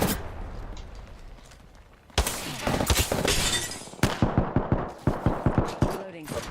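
Gunfire in Apex Legends: a loud burst of rapid automatic shots after a quieter stretch, then a string of sharp, evenly spaced bursts.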